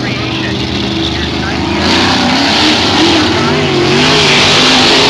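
Sprint car engines roar on a hot lap at Fulton Speedway, a loud sustained dirt-track drone that climbs in pitch and swells louder midway as the cars accelerate, with an announcer talking over it.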